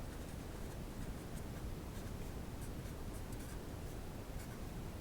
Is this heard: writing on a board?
yes